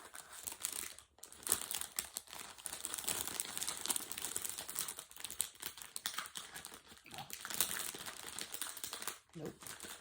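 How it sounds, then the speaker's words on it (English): Packaging crinkles almost continuously as it is opened by hand, a quiet, close rustling with a few brief pauses. "there's some crinkling"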